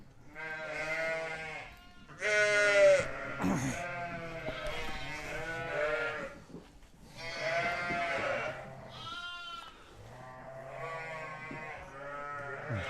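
Lambs in a barn bleating repeatedly, several overlapping calls of varying pitch in irregular bursts, close and clear with quiet gaps between.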